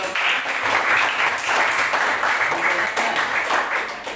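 Applause from a classroom audience greeting a student presentation group, a steady dense wash of many hands clapping that holds evenly throughout at moderate loudness.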